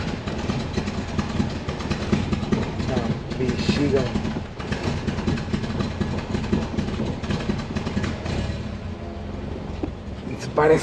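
Engine of a VW Gol car idling rough and misfiring on one cylinder, a steady low chugging rumble with uneven beats, close by, with people talking over it.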